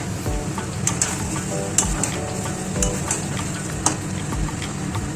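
Vegetarian spicy potato curry (aloo dum) sizzling in a pan as sugar goes in, a steady close frying hiss with occasional stirring scrapes and soft clinks.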